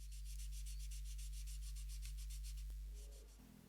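A Lie-Nielsen No 4 plane blade is rubbed on a sharpening stone to polish a back bevel, giving even rhythmic strokes of gritty scraping for nearly three seconds before it stops, close and fairly loud.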